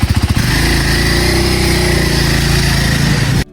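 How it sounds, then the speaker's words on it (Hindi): A motorcycle engine starts with a few quick cranking pulses, then settles into a loud, steady close-up idle that cuts off at the end. "जैसे ही मैंने इंजन स्टार्ट की,"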